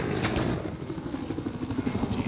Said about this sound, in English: We got eyes on an enemy chopper.